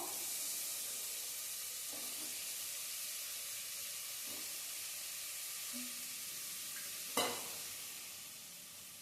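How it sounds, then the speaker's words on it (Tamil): Cut eggplant sautés in masala in a pan, a quiet continuous sizzle and hiss with a few soft stirring scrapes and one sharp clink near the end. "இப்ப இந்த கத்திரிக்காயும் நல்லா இந்த மசாலா கூட பிடிச்சு நல்லா வதங்கணும்"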